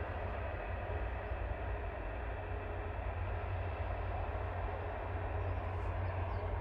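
An EasyJet A320 Classic jet departs runway 23 left at Manchester Airport in the evening, heard as a steady, distant broadband roar that holds evenly throughout with no voices.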